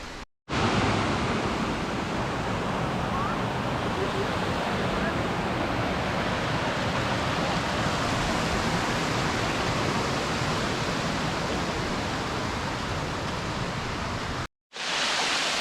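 A small waterfall on the trail to Rainbow Falls in the Smoky Mountains roars nearby, a loud, steady broadband rush of falling water that holds almost unbroken for about fourteen seconds, cutting off briefly near the start and end.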